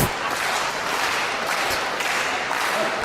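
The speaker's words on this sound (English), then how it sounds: "The crowd getting pumped up." Wrestling crowd at a Canadian retirement match cheering and applauding in a dense, constant roar, loud and unbroken for the whole stretch with no voices standing out above it.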